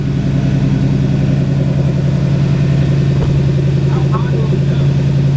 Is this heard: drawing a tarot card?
no